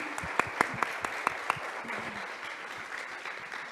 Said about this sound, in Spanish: yo quiero que le demos un aplauso a Aura